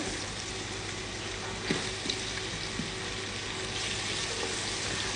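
Salo, homemade sausage and onion frying in a pan for Transcarpathian bograch, a steady broad sizzle with a few soft clicks and spatters, close and continuous, no talk.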